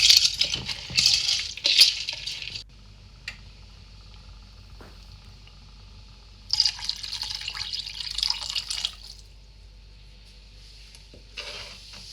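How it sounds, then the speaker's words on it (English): Water is poured from a vessel into a pot of soaked rice and dal in two separate streams, a bright splashing gush each time with a quiet pause between, no talking. "For 1 cup of rice and 1/4 cup of dal, add 2 to 3 cups of water."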